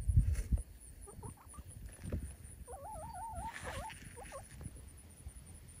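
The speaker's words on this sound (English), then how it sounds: "These chickens gonna take care of it for me." Backyard chickens cluck and give warbling calls, a few at a time, at a moderate distance. There is faint rustling and a steady high background hum.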